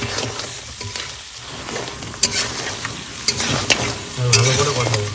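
Crab sautés in a pan with chilli powder, cumin, black pepper and coriander powder. A loud sizzling hiss runs throughout, broken by sharp scraping and clinking strokes from stirring.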